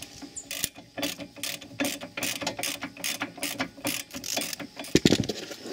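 A ratchet wrench clicks in quick rhythmic bursts while screwing in caliper carrier bracket bolts on a Dodge Grand Caravan, close and crisp, with a short metallic clank near the end.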